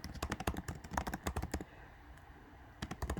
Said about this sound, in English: my typing is getting a little sloppy